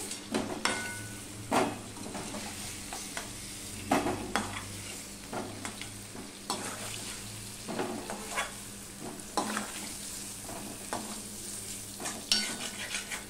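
Pieces of sweet pumpkin sizzle steadily in hot oil in a home kitchen pan, with frequent scraping and stirring clatters from a spatula breaking through the continuous frying hiss; no voices.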